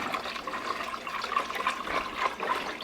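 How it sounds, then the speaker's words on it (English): Liquid poured slowly into a pot while chicken wild rice soup is stirred, a steady splashing trickle that stays moderately loud throughout. "slowly pouring it in as I'm stirring it, making sure that flour gets absorbed by this liquid"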